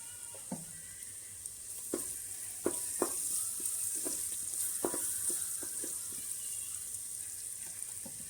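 Onions softened and sizzling in a pan with turmeric added for a village-style black mutton gravy, a steady bright hiss with scattered spoon scrapes and clicks as the mixture is stirred, no talking.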